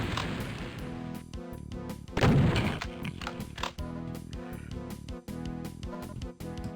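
Rocket launcher fire and blasts in the PC shooter Final Doom, one loud explosive burst standing out over a busy bed of game music and repeated impact sounds.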